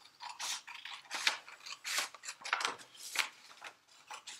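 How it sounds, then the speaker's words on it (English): A pair of scissors cuts paper for origami in a series of close, crisp snips and rustles, roughly eight or nine cuts at an uneven rhythm, with nothing else heard. "Oddly, I've got a pair of scissors here."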